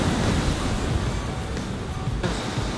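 Ocean waves wash onto the beach at Pacifica in a continuous broadband roar, loud and close, with wind buffeting the microphone and no speech.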